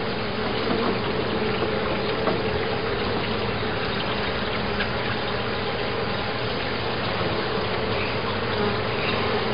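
Honey bees swarm around an open hive during an inspection of a captured swarm, a thick, continuous, close buzzing that stays even and loud throughout with no talking.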